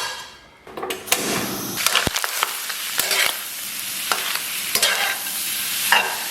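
Cooked lamb offal stir-fries in a hot wok with steady sizzling and repeated scraping strokes of a spatula, close and continuous with no talk.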